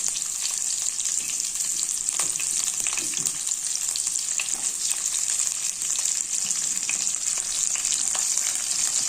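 Onions and chillies with cumin and mustard seeds fry steadily in hot oil for a Telugu ivy gourd dish, a continuous bright sizzle with occasional pops and spatters, close and alone without talk.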